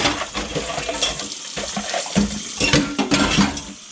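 Hot water gushing steadily from a tap, a loud, close splashing rush with uneven spurts and gurgles throughout, and no voices.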